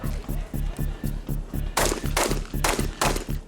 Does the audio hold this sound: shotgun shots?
yes